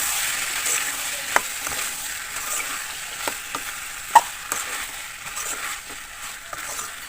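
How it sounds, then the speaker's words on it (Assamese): Tomatoes, potatoes and kidney beans fry in a pan while a spoon stirs them, with a soft continuous sizzle broken by intermittent scraping taps and one sharper knock. "মই বিলাহীখিনি এতিয়া যিখিনি মই উহাই থৈ দিছিলোঁ আলু আৰু ৰাজমাহ আছিলে সেইখিনি মই এতিয়া দি দিম ইয়াতে আৰু এইখিনি মই ধুনীয়াকৈ মিক্স কৰি ল'ম"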